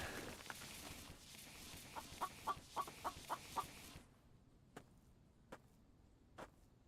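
A chicken clucking in a survival video game, a rhythmic series of short clucks over ambient game noise, then a few isolated sharp clucks against quieter background.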